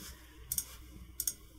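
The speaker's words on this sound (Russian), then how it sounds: "Мы нажимаем на эту грань левой кнопкой мыши" A computer mouse's left button clicks twice in quick pairs, sharp and close against a quiet background.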